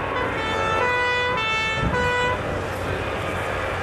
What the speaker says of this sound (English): R1. Rapid intervention vehicles. 3 of them ahead of the larger firefighting vehicles.